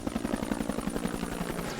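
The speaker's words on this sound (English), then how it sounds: "That afternoon, a helicopter tried to come in to pick up the dead." An American military helicopter approaching to land in a Vietnam War combat zone gives a loud, steady rapid rotor chop with heavy thumping beats throughout.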